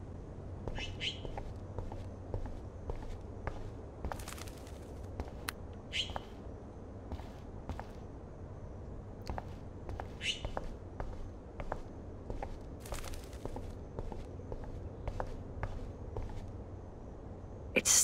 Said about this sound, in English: Oh no, that poor little bird has been trapped in here.